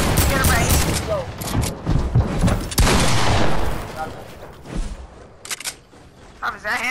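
Rapid gunfire in a PS4 duos shooter match, with dense loud bursts and sharp single shots that cluster early and then thin into sparse cracks, while players talk over the action.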